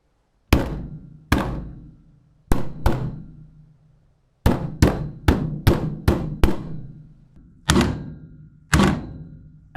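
A hammer strikes a PS5 controller in a series of loud, sharp, close thunks, about a dozen hits in irregular bursts with short decaying rings and brief silent gaps between them.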